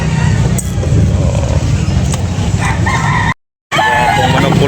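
A rooster crows loudly and close by at a busy chicken market in Carbon, Cebu, with clucking fowl and passing motor traffic filling the dense background before a brief cut to silence.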